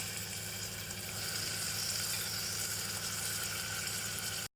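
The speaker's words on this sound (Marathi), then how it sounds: "आता आपण एक 5 मिनिटं बटाटे आणि सुक्या माशांना परतून घेऊया।" Potatoes and dried fish fry in hot oil with masala, a steady, close sizzle that runs without pause for several seconds before cutting off abruptly at the end.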